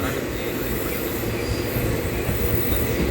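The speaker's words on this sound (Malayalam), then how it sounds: "ട്രെയിന് പോയിക്കൊണ്ടിരിക്കുകയാണ്" The Ernad Express, a passenger train, rolls past a railway platform in a loud, steady rumble with wheel clatter and faint squeal, close and continuous.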